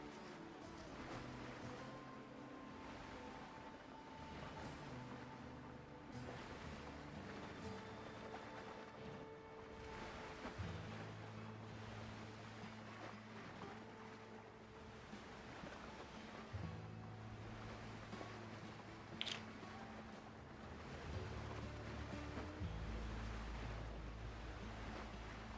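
Big rolling ocean waves in the sailing game Windrose, a steady broad wash of surf and water noise with low droning tones underneath, continuous and fairly loud, with no talking.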